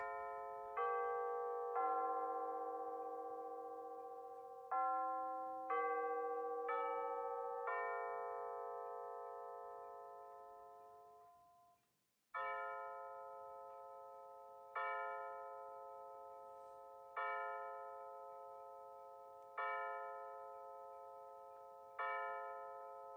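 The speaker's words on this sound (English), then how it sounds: "Six chimes, perfect." A Bulova C3542 wall clock strikes six o'clock: evenly spaced, ringing chime tones with long decaying overtones, first a quicker melodic run, then a pause and six measured strikes, close and clear with no talking.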